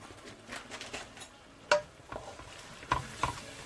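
Chicken mince with cumin and coriander powder being stirred in a pan, faint scraping strokes and a soft sizzle with a few sharper clinks of a utensil against the pan.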